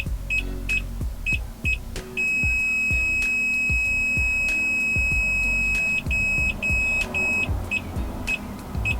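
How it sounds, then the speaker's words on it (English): Rapid electronic beeps from bull-bar-mounted car parking sensors, pulsing in quick bursts and merging into a steady continuous tone in the middle, over faint engine hum. "if anything approaches it by within a meter, it'll start to beep"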